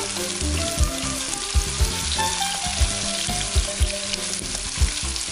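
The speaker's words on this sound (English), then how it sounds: "Just gonna let it fry here for just a minute or so" Vegetables with a spice rub frying in a saute pan, a dense crackling sizzle with repeated low thumps and clatter from the pan and utensil, no voices.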